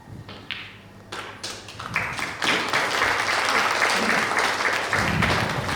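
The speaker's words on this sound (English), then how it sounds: "So a clap from the crowd" Crowd claps at a snooker exhibition match, opening with a few scattered taps and thuds before swelling into steady, moderate applause that continues to the end.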